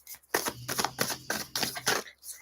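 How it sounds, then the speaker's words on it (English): A rapid flurry of papery riffling and snapping, like cards being shuffled, in several quick bursts close by, with a low hum underneath. "That was a fast shuffle."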